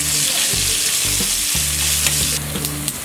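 Val papdi flat beans with garlic, curry leaves, salt and spices sizzle loudly in a pan while a spoon stirs them, with rhythmic scraping strokes over a continuous close fry and no voices.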